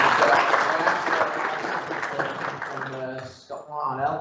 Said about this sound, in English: If I just get everyone to give Mike a round of applause.